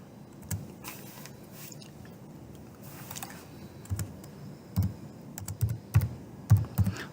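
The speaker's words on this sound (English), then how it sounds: "you have to type in your credentials in order for you to be able to access this database" Credentials are typed on a computer keyboard to log in to a law database. Faint, quiet key clicks come first in sparse taps, then in a quicker, louder run of keystrokes near the end, with no talking.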